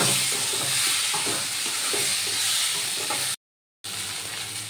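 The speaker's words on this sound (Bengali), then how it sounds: "আলুগুলো দিয়ে আবার ভালো করে কষিয়ে নেব।" Fried potatoes stir-frying in a pan, a continuous close hiss and sizzle with light stirring taps, cut by a brief dead-silent gap before the sizzle resumes.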